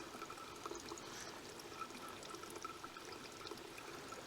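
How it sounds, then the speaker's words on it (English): A river flows steadily beside a small Scottish lochan, its water rushing and trickling in a continuous, even wash at moderate distance, with no voices. "We're going to sit here and enjoy the river sounds"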